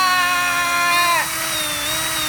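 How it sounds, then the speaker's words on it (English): A power drill whines steadily at high pitch while drilling holes in wood, its tone dropping abruptly midway as the bit bites through, then running on at a lower, even pitch. "now we've drilled the holes"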